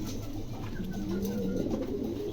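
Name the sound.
pigeons cooing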